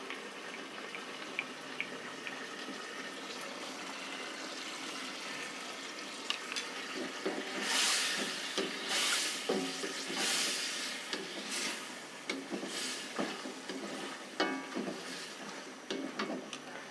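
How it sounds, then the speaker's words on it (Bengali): Cornflour slurry is poured into chilli chicken frying in a pan, and the sizzle swells with a watery hiss and splashing, followed by close stirring and scraping strokes, with no voices. "এখন দিয়ে দিচ্ছি গোলানো কর্নফ্লাওয়ার"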